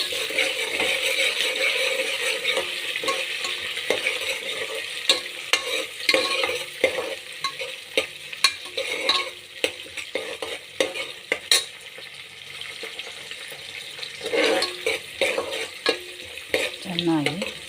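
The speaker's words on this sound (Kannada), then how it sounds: "ಚೆನ್ನಾಗಿ ಕೆಂಬಣ್ಣ ಬರುವವರೆಗೂ ಚೆನ್ನಾಗಿ ಫ್ರೈ ಆಗಿದೆ." Tomato bath masala with soaked peas fries in a pan, a steady close sizzle broken by scraping stirs and occasional clinks of a spoon against the metal.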